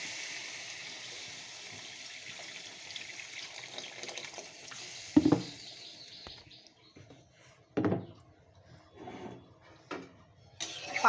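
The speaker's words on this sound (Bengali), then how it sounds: "এখন আমি দিয়ে দেব জল।" Water pours from a vessel into a cooking pan of fish curry with vegetables, a soft hissing stream with a few louder splashes and clunks, near, no talk.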